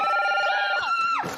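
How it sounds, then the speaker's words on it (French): A red telephone ringing in a reality TV house, a loud electronic tone warbling steadily before it shifts pitch and cuts off, followed by a moment of room noise. "le téléphone rouge va de nouveau sonner"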